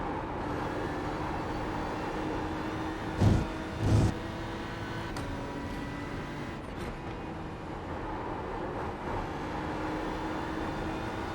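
Steady engine drone of a BMW GT3 race car lapping a circuit in the iRacing sim, a continuous mid-level hum with two brief louder bumps around a curb, no talking.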